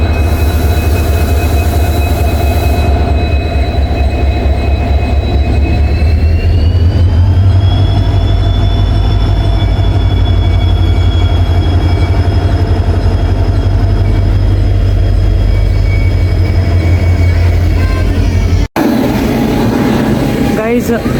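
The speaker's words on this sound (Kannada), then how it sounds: "ಈಗ ಇದೇನು ಬಂತಲ್ಲ ಟ್ರೈನ್" A train arriving at Guntakal Junction rumbles loudly and steadily nearby with a low engine drone and a rising tone, continuous for a long stretch before an abrupt cut.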